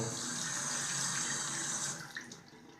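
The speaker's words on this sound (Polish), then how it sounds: "Teraz wystarczy nam tylko opukać golarkę pod bieżącą wodą." A Philips S5150/26 electric shaver is rinsed under running tap water, a close, steady splashing hiss of water falling on the shaver that thins out and fades toward the end.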